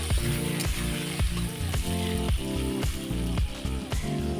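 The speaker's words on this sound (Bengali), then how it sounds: "সেই আলুটা এবার কড়াইতে দিয়ে দিলাম" Busy, crackling sizzle of potatoes frying in hot oil in a wok, punctuated by a regular series of clanking stirs, close up with no voices.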